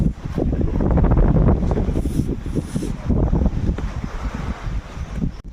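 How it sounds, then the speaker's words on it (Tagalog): Strong wind at sea buffets the microphone in loud, roaring gusts, with a faint wash of water beneath and no talking. "Masyado malakas yung hangin."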